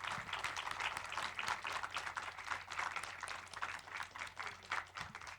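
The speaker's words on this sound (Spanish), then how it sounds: "Un aplauso fuerte, por favor." Applause at a literary festival event follows a reading. Dense clapping keeps up throughout at a moderate level with no talking over it.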